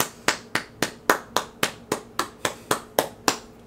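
Hand clapping, about thirteen sharp, evenly spaced claps in a steady rhythm, close and distinct with short decays and quiet gaps between them.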